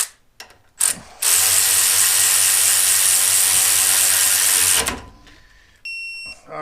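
A Snap-on ratchet torques a bolt to about 50 foot-pounds: a sustained, loud, close clicking ratchet run lasting several seconds, preceded by a brief clatter and followed by quieter handling noises and a faint tone.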